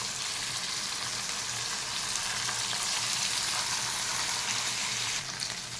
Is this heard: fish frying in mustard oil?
yes